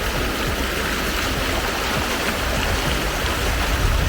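A river rushes beside a mountain trekking trail, a dense, continuous broadband roar of flowing water that stays loud and even throughout, with no voices over it.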